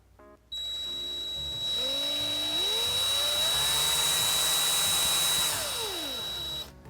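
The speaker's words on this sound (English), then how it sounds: "I'm gonna have to put this in the drill" A power tool spins up and whines at a steady high pitch for several seconds, rising in speed before winding down and cutting off.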